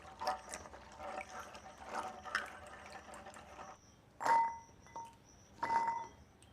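Karamcha fruits being washed in water, with faint soft sloshing and dripping, then two louder splashes with a light clink near the end.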